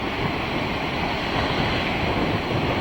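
Ocean waves break over coastal rocks in Spain, a continuous loud rush of surf and churning water with heavy wind buffeting the microphone throughout.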